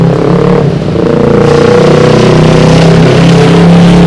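A Harley-Davidson big-bike motorcycle engine warms up at idle, a loud, close, continuous low rumble with a steady throbbing pulse and no talking.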